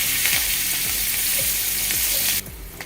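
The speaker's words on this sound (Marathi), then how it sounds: "मोहरी तडतडायला लागली आहे, यात हिरवी मिरची घालायची बारीक चिरून" Loud, bright sizzling of popping mustard seeds, finely chopped green chili and curry leaves in hot oil with regular scraping stirs, then the hiss drops abruptly to a quieter crackle near the end.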